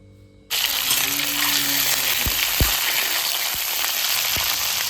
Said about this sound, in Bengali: ডিমটাকে অল্প তেলের ভিতরে ভাজা হইল